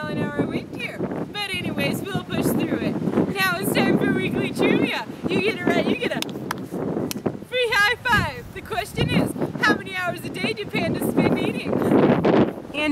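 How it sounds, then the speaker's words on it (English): Strong wind of about 75 mph roaring against the microphone while a person talks over it continuously. "I'd say about 75 mile an hour wind here."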